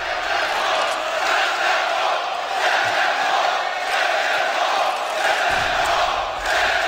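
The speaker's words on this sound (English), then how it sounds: "The crowd is ready." An arena crowd at a Counter-Strike esports match between Cloud9 and SK Gaming roars in a sustained, loud wall of cheering and chanting that swells slightly without pause.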